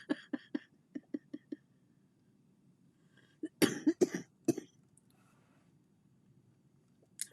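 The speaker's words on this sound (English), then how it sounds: "Something's up with me with this coughing." A woman coughing while crocheting a blanket, a quick run of soft, dry coughs followed by a louder cluster of harsher coughs and throat noises, close and fairly quiet in a calm room.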